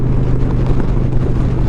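A 2021 Indian Challenger Limited motorcycle cruises on the road at 70 mph, giving a brief, steady roar of wind rush over a low engine hum.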